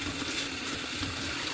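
Vegetables for a salad being washed under running tap water, a steady close splashing hiss throughout.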